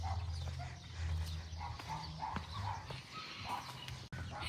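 A family dog named Rocky, outdoors at a home in Mexico, gives a few faint, scattered barks at a distance over steady low background rumble and noise.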